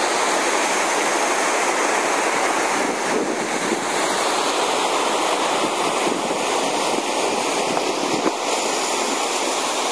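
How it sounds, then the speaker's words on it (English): A waterfall roars as a loud, steady broadband rush of falling water that fills the whole clip, heard close with no talk. "let's try the waterfall"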